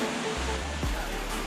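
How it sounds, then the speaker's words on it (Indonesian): Jumog waterfall in Karanganyar Regency, a steady broadband rush of falling water close by, loud and continuous with no clear breaks. "Sekarang kita lagi di air terjun Jumog"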